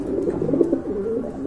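Pigeons in a pen coo in low, soft, rolling calls that overlap one another at close range against a light background murmur.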